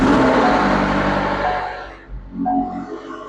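A McLaren 720S engine fires up after an oil change, starting with a loud broadband roar that settles, dips, and then drops into a quieter, steady idle hum.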